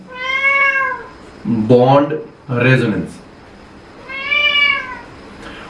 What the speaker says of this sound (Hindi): ओके, अब ये बिल्लियों की आवाज है तुम लोगों को आ रही होगी